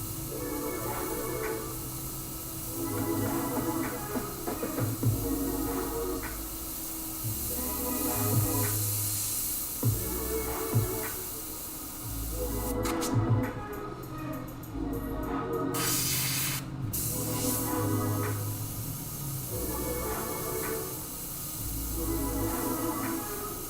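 An airbrush or spray gun sprays paint in bursts, a hissing spray that repeats in short and longer passes, close and moderately loud, with brief clicks between strokes.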